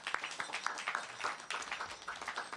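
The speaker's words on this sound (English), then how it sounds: "Let's give Srila Prabhupada a big round of applause." Scattered clapping from a small crowd at an ISKCON temple Sunday program in Coventry, a steady patter of applause lasting a couple of seconds, fairly faint.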